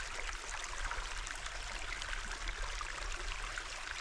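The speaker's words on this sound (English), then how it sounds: "waterfall." A small waterfall in Davis Gulch, a desert canyon, pours steadily with a continuous soft splashing rush, fairly faint and even throughout, with no voices.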